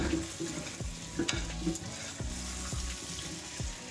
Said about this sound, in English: let it fry for about 5 minutes till the tomatoes get cooked